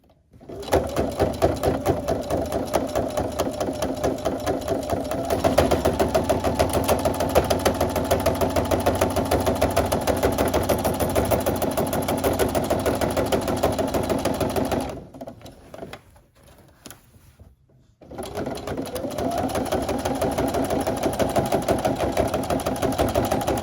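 A sewing machine stitching a seam on an eco-friendly reusable shopping bag, a steady rapid mechanical chatter running continuously, pausing briefly near the end before resuming, close and loud with no talk.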